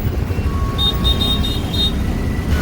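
Road traffic heard from inside a rickshaw, a loud steady rumble of engines with a short run of vehicle horn beeps midway.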